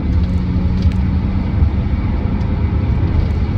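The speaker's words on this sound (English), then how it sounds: "It does sound good, that BMW 6." A BMW Z4 E89 sDrive 23i roadster with a six-cylinder engine and six-speed manual gearbox runs steadily, producing a continuous low, loud engine rumble with no talking.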